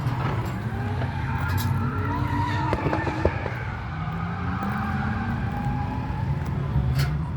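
A Mercedes Sprinter van drifts at a drift night, its tyres squealing and skidding in long wavering tones over a loud, continuous engine roar.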